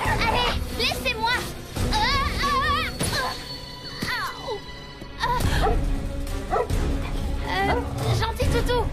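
A dog barks and yips in repeated excited bursts close by, with whimpering between, while children and other voices talk and shout over it.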